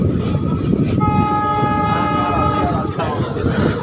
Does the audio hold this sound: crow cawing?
no